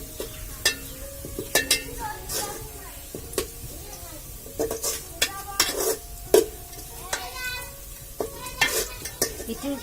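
Sliced onions sizzle in oil as a spoon repeatedly scrapes and knocks around the pan while they fry golden-brown for Bangladeshi plain pulao, with brief bits of speech over the cooking.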